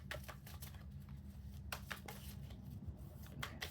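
Tarot cards being shuffled by hand, a rapid run of papery riffles and soft clicks that surges in short bursts over steady low background hum, close and moderately quiet.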